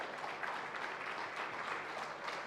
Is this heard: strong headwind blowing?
no